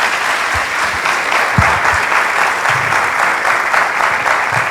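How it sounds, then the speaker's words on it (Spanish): Loud, sustained applause from a conference audience at the close of a talk on fiscal policy, dense clapping filling the room evenly with a few low thumps underneath. "Un aplauso buenísimo"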